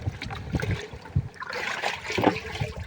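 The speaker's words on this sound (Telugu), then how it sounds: "ఇప్పుడు 200 లీటర్ల నీళ్ళలో బెల్లం పాకం పోస్తున్నాము." Thick jaggery syrup pours into a large 200-litre batch of water outdoors, giving a soft, uneven trickling and splashing that swells and fades over a few seconds, moderately near.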